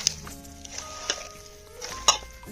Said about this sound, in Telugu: ఓకే ఫ్రెండ్స్, ఇవన్నీ ఇప్పుడు మనం కలుపుకుందాం